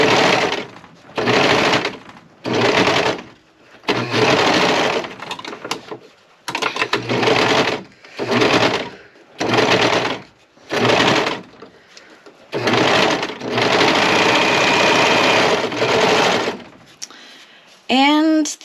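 A Harbor Freight sewing machine stitching homemade make-up wipes, running in about nine separate bursts of rapid mechanical whirring and clatter, close and fairly loud, with short quiet pauses between runs and a brief click near the end.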